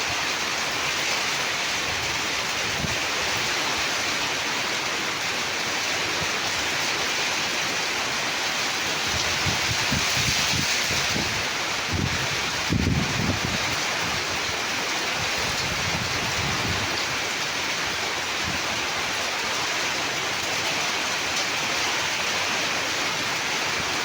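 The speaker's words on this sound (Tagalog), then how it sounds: "May kasamang ulan, tsaka hangin." Heavy rain and roaring typhoon wind from Typhoon Paulo in Angeles City, Pampanga, Philippines, blend into a dense, constant rush, with gusty low rumbles swelling near the middle.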